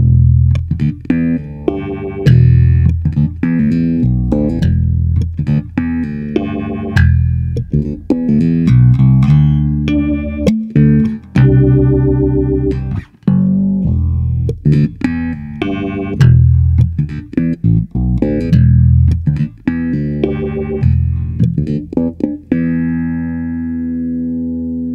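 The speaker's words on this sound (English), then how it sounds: "I use an expression pedal to control the speed of the LFO" Electric bass run through a Soundblox 2 Orbital Modulator pedal, its LFO speed set by expression pedal, notes warbling and pulsing with a harsh, metallic, ring-modulated edge, loud and continuous.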